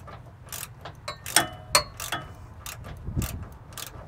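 Ratcheting socket wrench with a 15 mm socket clicking in short bursts as a bolt is hand-tightened on a Timbren suspension enhancement system, faint and close, with a few sharper metallic ticks.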